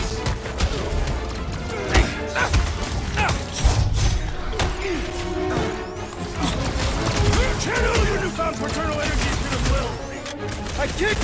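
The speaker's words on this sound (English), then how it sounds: "I am really starting to hate this elevator" Grinding, creaking elevator machinery in Marvel's Guardians of the Galaxy video game, a continuous dense mechanical clatter with ratcheting and impacts, loud and close throughout.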